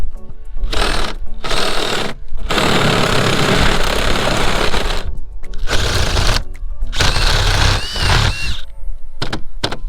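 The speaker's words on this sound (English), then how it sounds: "Best for me when I drill a little bit from both sides" A power drill whirs loudly in several bursts, starting and stopping, with short quiet gaps between runs, close by.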